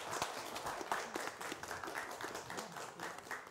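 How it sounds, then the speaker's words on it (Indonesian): Studio audience applause at a Sriwijaya TV talk show taping, a dense, lively burst of many hands clapping continuously for several seconds, fairly close and unbroken. "Beri tepuk tangan untuk mereka."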